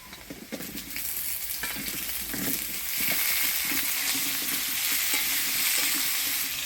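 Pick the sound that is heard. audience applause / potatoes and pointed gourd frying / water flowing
potatoes and pointed gourd frying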